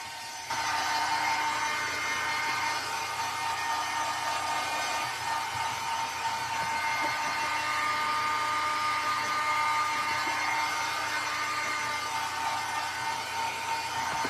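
A steady, close whirring drone of a dryer runs without a break for over thirteen seconds as a craft project is dried, with no talking over it.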